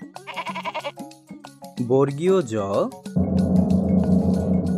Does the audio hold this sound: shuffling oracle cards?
no